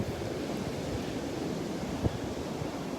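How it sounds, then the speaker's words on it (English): Wind blowing in off the Gulf of Mexico on a Florida beach at Delnor-Wiggins, a constant broadband rush of gusting air mixed with surf, with a single brief bump partway through and no speech. "The wind coming in off the Gulf"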